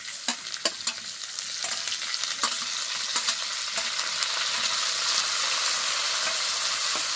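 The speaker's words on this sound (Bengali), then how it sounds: "এবার গুগলির সাথে আলুটাকে খুব ভালোভাবে ভাজতে হবে।" Snails and potatoes fry steadily in a pan, a dense continuous sizzle that swells slightly over time, punctuated early by several sharp clicks and scrapes of stirring, with no voices.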